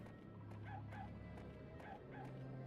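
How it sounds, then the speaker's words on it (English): A dog in the video game Oogie's Revenge barks in quick short yips, four or so evenly spaced pairs over a steady humming music bed, moderately near and not very loud. "The dog does give you tips when it barks."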